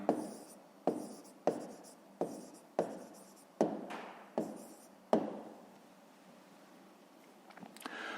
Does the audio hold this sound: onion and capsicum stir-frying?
no